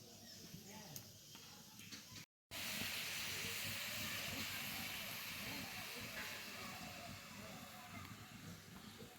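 Lemons for an oil-free lemon pickle boiling down in a pot, giving a dense, steady bubbling hiss that carries on throughout, broken only by a brief silent gap near the start.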